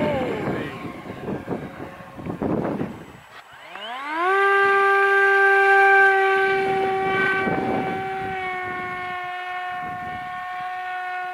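E-flite Icon A5 electric RC model plane throttling up to full power, its motor whine climbing steeply in pitch and then holding a loud, steady high drone, with voices talking nearby before it spools up.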